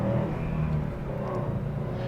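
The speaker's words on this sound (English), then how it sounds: "My first impression is that this engine revs so freely." A 2021 Subaru WRX STI engine runs with a steady, close-up mechanical drone and a slight rise in revs, without any voices.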